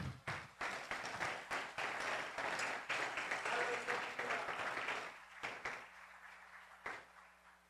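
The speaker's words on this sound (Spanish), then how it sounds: "Denle un aplauso al Señor." Congregation applauding in a church service, a steady wash of clapping for several seconds that breaks into a few scattered claps at the end.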